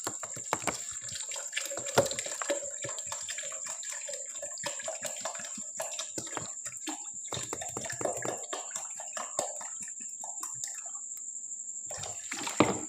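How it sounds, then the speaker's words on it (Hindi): Water is poured steadily into a jug holding falsa berries, sugar and black salt for sharbat, a continuous splashing trickle with small gurgles that runs close and fairly loud. "अब हम इसमें डाल देंगे पानी।"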